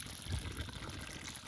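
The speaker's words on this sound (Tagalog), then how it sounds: "Free flowing. Punta sa bukirin. May tubig sa bukid." Water flowing through a farm field, a steady close gushing and splashing that fills the whole short stretch with no talk.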